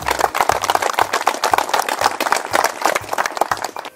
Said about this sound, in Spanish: para quien pido también un fuerte aplauso